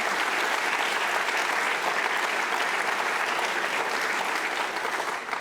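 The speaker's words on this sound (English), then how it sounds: "Clap." Applause from a conference audience at the opening of an AI event, a dense, even roar of clapping hands that carries steadily throughout and thins slightly at the very end.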